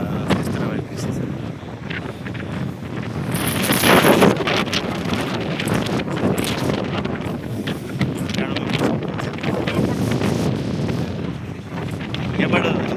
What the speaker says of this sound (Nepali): अलिकति हावा बढी चल्दो रहेछ डाँडामा।